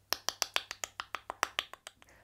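Fourteen sharp, evenly spaced hand claps ring out at a brisk steady pace, close and clear against a quiet background, as part of a children's teddy bear action rhyme.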